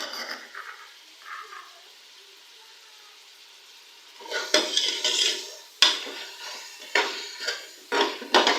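Beef and ginger-garlic paste stirred in a pot for bhuna gosht, with a metal spoon scraping and clanking against the pan in several loud bursts after a quiet, low sizzling start.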